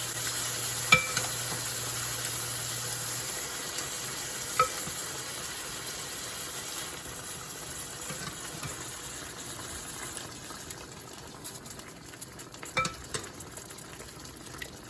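Tomato pizzaiola sauce simmering in a pan, a soft steady bubbling and sizzle with a few clinks of a utensil stirring, close and fairly quiet with no talking.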